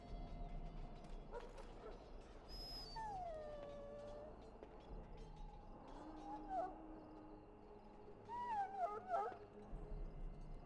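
A wounded dog in the fantasy video game Dragon Age: Origins whimpers and yips in high, wavering cries over a steady low game ambience, with several plaintive bursts spread across the stretch.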